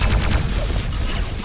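A plasma rifle in an action shooter fires a fast, steady stream of loud, close, crackling shots, with no talking over it.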